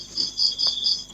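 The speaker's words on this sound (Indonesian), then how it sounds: "Anda masuk hanya untuk mendengarkan suara jangkrik aja" Crickets chirp in quick repeated bursts, a bright, steady trilling that pulses about four times in a second, fairly close and clear over a faint low background.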